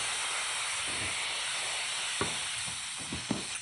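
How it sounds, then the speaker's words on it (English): Wine with raisins poured into a hot pan to deglaze it for pepper steak, a loud, steady hissing sizzle of steam that keeps going, with a few faint knocks near the end. "That's what we mean under deglazing. You add some liquid to your hot pan."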